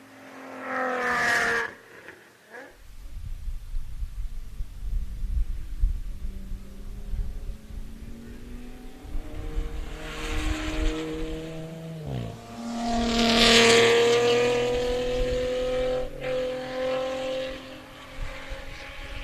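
Time attack race cars lap a track at a qualifying event, their engines rising and falling as they pass at a distance, with one louder drive-by near the middle. No one speaks over the steady engine noise.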